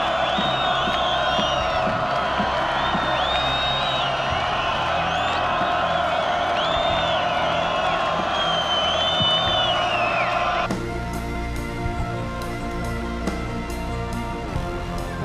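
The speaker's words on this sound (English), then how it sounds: "Please let's give them a round of applause." A large concert crowd cheers, whoops and applauds loudly and continuously, with whistles and shouts rising above a dense roar that carries on throughout.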